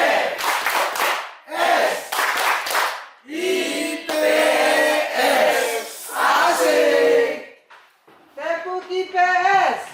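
A school class claps and chants the Tepuk IPS routine together in rhythmic bursts of group voices and clapping, loud and close in a classroom, with brief pauses between phrases.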